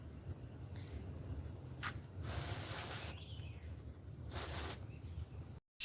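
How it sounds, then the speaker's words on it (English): A wide-spraying body spray aerosol gives two sharp, close hissing bursts: a longer one of about a second, then a shorter one a moment later, over a quiet room background. "She's got a like a wide spray out for body spray now."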